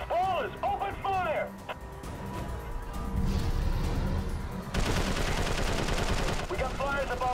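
Gunfire in the video game Prototype 2 rattles in dense, loud bursts and steady fire, with voices talking over the battle.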